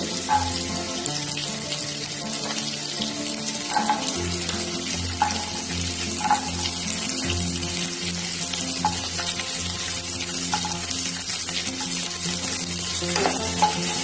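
Diced carrots and green peas frying in a pan for vegetable fried rice make a dense, steady sizzle, with light spatula taps recurring every second or so against a low, constant background hum.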